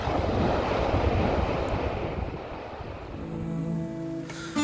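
Gentle ocean waves wash onto a sunny shore in a steady, broad surf wash with some wind noise, then fade slightly as a faint tonal hum rises near the end.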